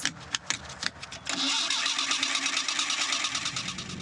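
An abandoned old Coca-Cola delivery truck engine cranks in short bursts, then catches and settles into a steady, loud running rumble with some higher mechanical rattle.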